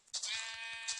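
A sheep in the Minecraft video game gives a single bright, wavering bleat, loud and close, with a couple of soft footstep-like thumps beneath it.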